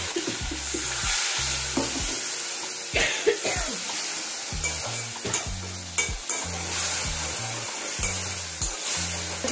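Spice paste with turmeric and a splash of water is stirred and fried in a pan, sizzling hiss broken by rhythmic scraping strokes of a spatula at close range, no talking.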